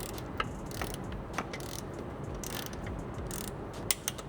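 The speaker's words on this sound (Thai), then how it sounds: "มันก็จะไล่ขันบอลแบบนี้สเต็ปเดียวกันรอบแรก5นิวตันรอบ2 10นิวตัน" A torque wrench ratchets in short clicks as bolts on a Toyota GR Supra A90 Do88 performance cooling system are tightened in stages, with light, sparse clicks over a low mechanical background.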